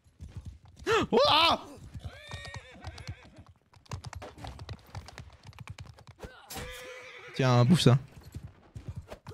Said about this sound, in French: En tapant sur le côté de mon cheval, ça le fait cabrer depuis quand?